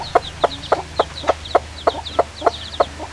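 Rhode Island chicken clucking in a steady series of short, regular clucks about every third of a second, close by over a low background hum.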